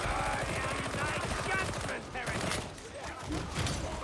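Gunfire bursts in Warhammer 40K Darktide, dense rapid shots and explosions rolling continuously at close range, with a voice speaking over the battle.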